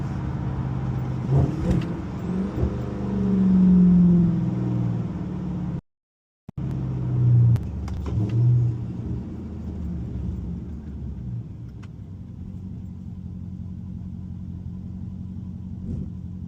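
A Dodge Hellcat's deep engine rumbles steadily from inside the moving car, swelling briefly as it accelerates, with a short moment of silence partway through.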